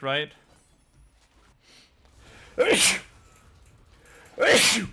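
Two loud, sharp sneezes a couple of seconds apart from a person gaming at home, each a sudden explosive burst, with a brief spoken word at the start and quiet between.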